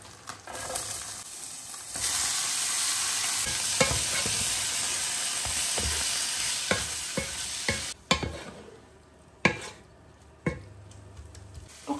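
Chopped onions and button mushrooms frying in a pan, a steady close sizzle with scraping stirs that gives way to intermittent clacks and quieter hissing near the end.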